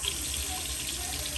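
A newly installed bathroom sink faucet runs water at full flow, making a loud, steady close-up rush and hiss that stays constant throughout.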